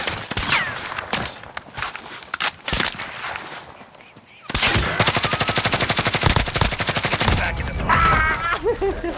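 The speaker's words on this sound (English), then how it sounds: "I'm taking fire!" Rapid automatic gunfire in Call of Duty: Modern Warfare, scattered shots at first, then a loud sustained stream of bursts in the second half, with a player talking over it.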